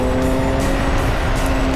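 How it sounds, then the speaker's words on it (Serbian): Motorcycle engines on a winding mountain road give a steady, loud, close drone that holds evenly from start to end, with no voices. "Nema buke, samo zvuk motora i tiho pucketanje auspuha prije ispuštenju brzine."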